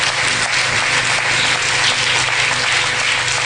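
A church congregation applauding, a dense, steady wash of many hands clapping at once that fills the whole stretch without pause.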